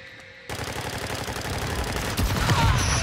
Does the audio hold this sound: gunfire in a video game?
yes